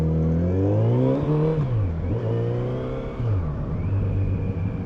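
A 2020 Kawasaki Z900RS motorcycle accelerates and shifts, its engine revving up and dropping back between gears with a throaty induction growl, loud and close, with no speech.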